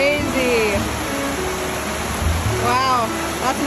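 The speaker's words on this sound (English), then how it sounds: "Whoa, there's the waterfall." A waterfall in the Dolomites gives off a steady, broad rushing roar, reached by bike. Brief voices call out over the constant water noise.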